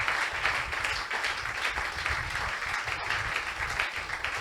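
A church congregation applauds during a worship service, steady dense clapping sustained throughout at close range with a faint voice underneath.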